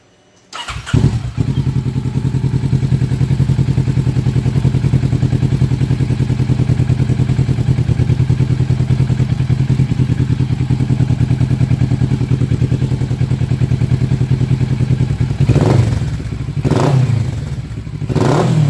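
A motorcycle engine cranks and catches, then settles into a steady, loud, close idle for most of the time, with a few blips of throttle or clatter near the end.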